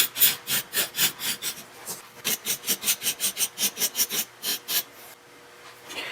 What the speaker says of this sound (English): now I want to cut into the cuttlebone with this flat tool